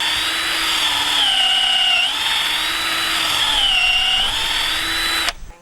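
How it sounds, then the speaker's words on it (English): A power drill bores a hinge hole into a wooden farm gate post, its motor whining steadily with the pitch dipping as it bites and recovering twice, then stopping abruptly near the end. "I'll figure out where the best place is to drill the hole there"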